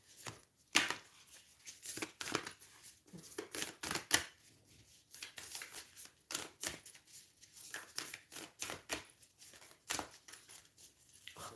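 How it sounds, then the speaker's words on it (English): A deck of heart-shaped tarot cards is shuffled by hand, making quiet, close, irregular bursts of flicking and riffling that come in uneven clusters with short pauses between. "Oh, they're really hard to shuffle."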